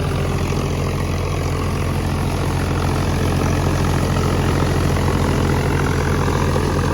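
A Sonalika tractor engine runs nearby as a loud, steady low drone with a dense rumble that stays constant throughout, and no one speaks.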